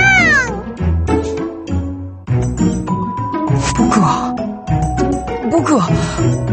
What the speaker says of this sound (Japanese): にゃにゃにゃーん。